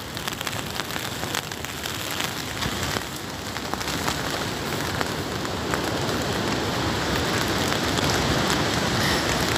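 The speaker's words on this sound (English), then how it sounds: "Here comes the rain." Heavy rain pelts a tent during storm Arwen at night, a dense continuous patter that grows slightly louder over the course of the clip, with no voices.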